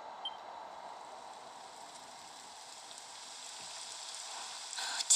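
Rain beginning to fall in the Dragon Quest video game, a steady soft hiss of pattering drops at low level that holds evenly throughout and swells slightly toward the end.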